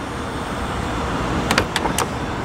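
Door of a Mercedes G-Class, its heavy hinge and latch giving a solid mechanical clunk: a short burst of several sharp latch clicks near the microphone over a steady background hum, with no talking.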